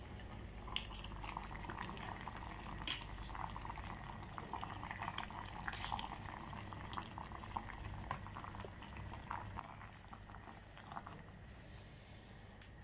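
Apples and garlic simmering for a home remedy, giving a faint, steady bubbling with small pops and drips.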